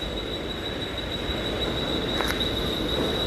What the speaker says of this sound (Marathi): इकडे कुर्ला लोकल आलेली आहे. मग आता आपली ट्रेन सुटेल.